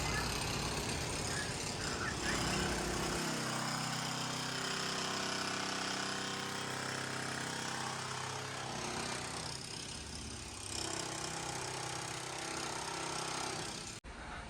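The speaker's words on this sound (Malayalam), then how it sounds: "ഒരാൾ താറ ഫ്ലോറെല്ലാം പൊളിക്കുന്നുണ്ട് ഇലക്ട്രിക്കിൻ്റെ പൈപ്പ് ഇടാൻ വേണ്ടിയിട്ട്" A power breaker chisels up a tiled floor at a house construction site to make way for electrical conduit. It gives a loud, continuous hammering drone for nearly the whole stretch, then stops abruptly at the end.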